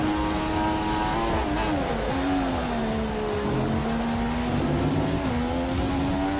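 Formula 1 race car in F1 2015 on the Australia circuit, a loud high-revving engine whine holding steady with gear shifts dipping and climbing the pitch, continuous and close.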